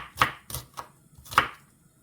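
A kitchen knife chops through an onion on a cutting board, making four crisp, separate cuts over two seconds, with a double strike at the start and a louder single chop near the end, close and clear with no talking.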